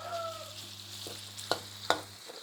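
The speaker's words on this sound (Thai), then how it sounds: "เราก็ใส่หมูแดดเดียวลงไปผัด" Sun-dried pork stir-fried in garlic oil, a steady close sizzle with a spatula scraping and two sharp knocks against the pan partway through.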